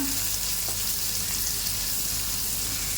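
Chopped onions hit the hot oil in a pan for a chicken keema boti dish, giving a steady, dense sizzle that stays even and close throughout with no voices.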